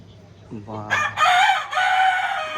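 A single village rooster crows nearby during a traditional wedding in Boisar, a loud rising call held for over a second, with faint background noise.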